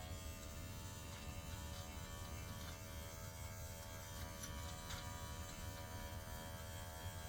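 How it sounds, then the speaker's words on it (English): An Andis electric foil shaver buzzes steadily and close during a beard trim, a constant even whir with slight fluctuations and no speech. "I usually use the Andis foil shaver to kind of keep that skin going for a couple weeks until it starts to grow in."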